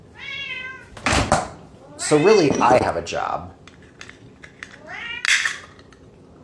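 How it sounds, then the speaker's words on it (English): A house cat meows several times, loud and close, with drawn-out, wavering cries between bursts of someone talking. "And every day, he meows a lot."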